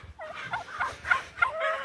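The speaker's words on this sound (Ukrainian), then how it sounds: "Так що це такі індики у нас." Turkeys on a farm gobble in several short, warbling calls spaced across the moment, fairly close and clear over a quiet background.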